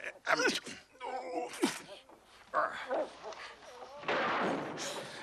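A dog gives a few barks and whimpering yips close by, mixed with gasping and groaning human voices in a dramatic scene.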